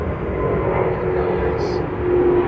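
An Airbus A350 jet airliner at Heathrow, a loud steady engine roar with a rising hiss near the end, heard from close by while someone talks.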